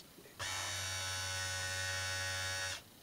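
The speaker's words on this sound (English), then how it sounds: "It don't matter because this is a reversible motor." A reversible electric motor hums steadily for about two seconds, a close, even buzz with a strong low tone that starts and stops abruptly.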